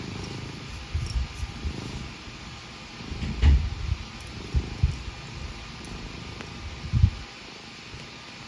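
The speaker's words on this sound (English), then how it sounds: "He's purring so loud." A cat purrs loudly and steadily at close range, with a continuous low rumble and a few soft thumps and handling noises in a quiet indoor room.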